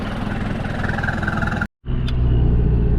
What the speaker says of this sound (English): We're running non-turbo, so it's just this little 4 cylinders pulling it along.